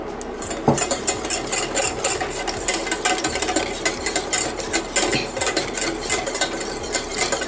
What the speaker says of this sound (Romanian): Amestecăm în continuu.